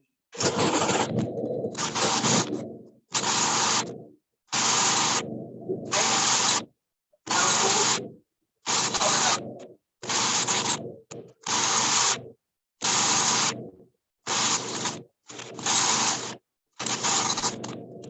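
A metallographic specimen held by hand on a wet polishing machine running with water, giving a steady broadband whir that starts and stops in repeated bursts of one to two seconds separated by short silences.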